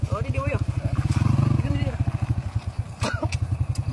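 A trail motorcycle engine runs with a rapid, steady low chugging pulse, close by and fairly loud, while people talk over it.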